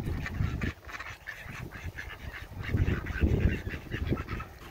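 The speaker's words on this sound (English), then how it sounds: "They're getting bigger, those baby geese." Young geese on a lake give repeated quacking honks in short bursts, a small flock calling near the listener with no voices over them.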